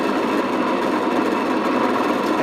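A steady, close electric motor hum with a broad whir, like a drill press running at constant speed, with no voices.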